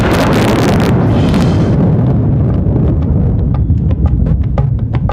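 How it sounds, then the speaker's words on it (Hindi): A thunder effect set in a Hindi devotional bhajan: a loud, sustained rumbling roll that fills the whole clip, with sharp crackles scattered through its later part and no voices. "छाई घटाएं घोर तब बादल गरज पड़े"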